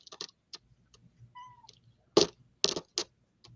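A cat meows several times indoors, the short calls coming close together and fairly near, with quiet gaps in between and no talking over them.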